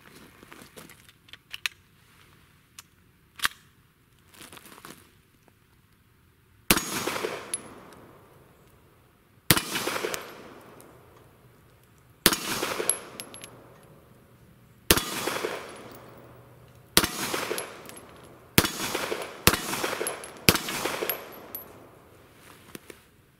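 Hi-Point C9 9mm pistol firing 115 grain reloads at steel targets 15 yards away outdoors: eight sharp, loud shots spaced a couple of seconds apart, with faint metallic pings from the steel after several.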